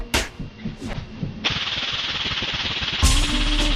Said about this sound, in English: You'll see a spark test for 5 seconds